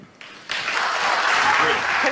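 A debate audience bursts into loud, sustained applause after a brief quieter stretch, clapping densely and evenly without letting up.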